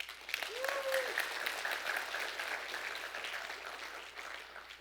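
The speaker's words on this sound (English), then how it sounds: "You can clap if you like." A church audience claps together in a warm, sustained round of applause that swells early and slowly fades, with a brief voice rising over it near the start.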